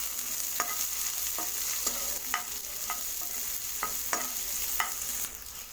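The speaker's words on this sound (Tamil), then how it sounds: "லோ ஃப்ளேம்லேயே வச்சு வதக்கி விடுங்க" Onions sauté in a pan over a low flame, a soft continuous sizzle broken by about eight regular scraping stirs of a spatula, close and without speech.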